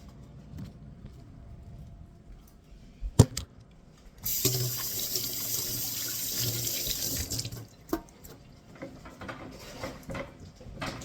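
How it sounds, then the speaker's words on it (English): Hands being washed under a running kitchen tap while making noodles, a steady hiss of water lasting about three seconds, close and fairly loud, framed by quieter clatter and a few sharp knocks before and after. "I'll wash my hands real quick here."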